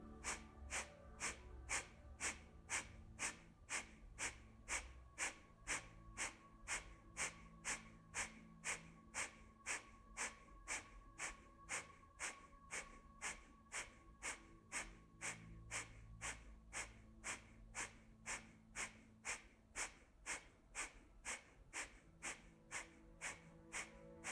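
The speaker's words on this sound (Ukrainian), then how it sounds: "з видихом капалабхаті, вогняне дихання без рахунку в комфортному ритмі" Kapalabhati fire breathing during a yoga session: a steady train of forceful, sharp exhalations through the nose, about two per second, evenly repeated for the whole stretch and close up, with no talking.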